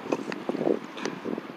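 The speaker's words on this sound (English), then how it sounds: "This wind is picking up and it is such a bother." Gusty wind buffets the microphone outdoors while fishing near water, a close rumbling roar with irregular low thumps and surges that rise and fall over the short stretch, no voices.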